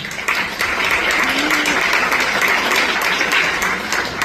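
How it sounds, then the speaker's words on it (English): School award-ceremony audience giving a round of applause to welcome a speaker, a loud, full, sustained burst of many hands clapping that holds steady throughout with a brief tonal sound partway through. "Let us welcome her with a round of applause"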